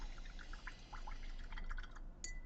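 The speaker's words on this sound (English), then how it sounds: "So I am going to add a little bit of water." A little water is poured into miniature paint to make a wash. Faint, close trickling and dripping sounds run over a quiet background hum.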